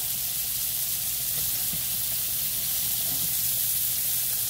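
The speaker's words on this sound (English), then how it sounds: "We're going to fry three steaks" Three thin half-inch steaks fry in a pan with a loud, steady, close hiss of sizzling fat that holds unbroken throughout.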